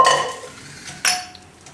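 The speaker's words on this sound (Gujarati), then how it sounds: "તો આને આપણે લઈ લેવું કુકરમાં." Soaked chickpeas tipped into a metal pressure cooker in a home kitchen, two short clattering metallic clinks with a rattle, close and brief, and quiet gaps between them.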